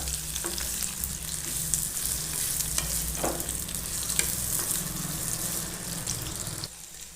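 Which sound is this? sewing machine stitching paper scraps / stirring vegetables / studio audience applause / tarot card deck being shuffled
stirring vegetables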